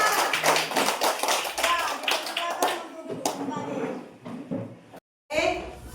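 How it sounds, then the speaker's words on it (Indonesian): Students in a classroom clapping hands together, a quick patter of claps mixed with children's voices and chatter, fading toward a brief silence before a teacher's voice resumes. "Oke, tepuk tangan untuk kita semua."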